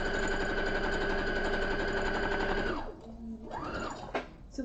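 A sewing machine runs steadily as it stitches a quilt block seam a quarter inch from the edge, its whirring constant for about three seconds, then it stops and a few quieter handling sounds follow.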